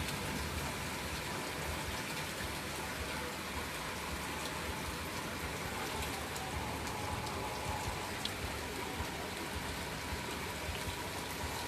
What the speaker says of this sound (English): It's raining hard even more.